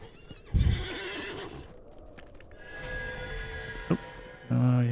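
A steed in the game LOTRO whinnies loudly and briefly near the start, followed by faint hooves amid game ambience, with another sharp sound near the end.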